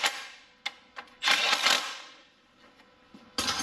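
Short bursts from an impact gun run 10mm bracket bolts onto a Honda EGR valve, with several quick sharp rattling hits of varying length in a quiet garage and brief pauses between them.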